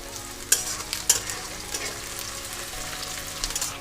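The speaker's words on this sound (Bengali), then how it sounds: "পেঁয়াজটা এখানে হালকা ভাজা হয়ে গেছে এবার আমি যে কুচি করে রেখেছিলাম সেই লঙ্কাগুলো এখানে দিয়ে দিলাম" Chopped green chillies fry with lightly browned onions in oil, a close, continuous sizzle broken by sharp stirring clinks and scrapes of a spatula against the pan.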